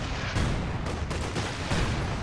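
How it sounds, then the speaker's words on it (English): Incendiary grenade bursting in Company of Heroes 2, a dense, loud crackling roar of explosion and gunfire-like bursts that swells and pulses steadily across the whole moment, with no voices. "He's dropping another incendiary grenade"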